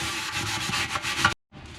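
A cleaning pad scrubs splattered oven surfaces with a close, steady, rhythmic rubbing that stops abruptly near the end before resuming faintly.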